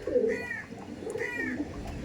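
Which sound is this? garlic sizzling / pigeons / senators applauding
pigeons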